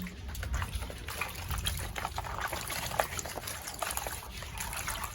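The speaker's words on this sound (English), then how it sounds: "I'm going to first wash my spices over here. So when you're washing, there's the water for rinsing." Rinsing water trickles and splashes steadily while spices are washed for African traditional tea in a village kitchen, with a continuous close wet dribble and no talk.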